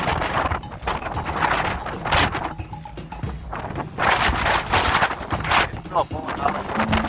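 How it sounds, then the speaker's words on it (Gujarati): Storm wind gusts through Ugamedi village, rattling metal roof sheets in irregular clattering bursts over a constant roar of wind, while someone talks throughout. "આ બાજુથી પવન આવે ને પતરા ખખડે"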